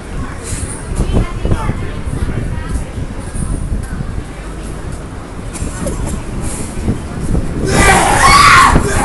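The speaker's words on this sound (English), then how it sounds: "Why does she scream like that?" A woman screams, set off by another person's cough, rising loud and alone near the end after a stretch of noisy background with voices and traffic-like rumble.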